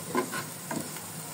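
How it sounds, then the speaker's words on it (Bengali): Onions frying quietly in oil in a pan, a soft oily sizzle with a few light stirring scrapes, close and low in level. "এই জন্য আমি হালকাভাবে পেঁয়াজ ভেজে নিচ্ছি।"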